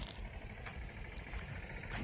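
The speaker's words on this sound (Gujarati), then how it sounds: "એ ટ્રેક્ટર લઈને જાય છે।" A tractor engine rumbles faintly at a farm field as it moves off, a low, steady mechanical drone with light clatter, distant and quiet with no voices over it.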